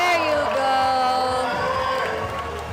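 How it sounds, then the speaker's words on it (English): A crowd at a speed and lead climbing nationals in the Philippines cheers a Masters-category climber on the wall: loud, sustained shouting and whistling that fills the space without a break. "The crowd is going crazy with every move she makes."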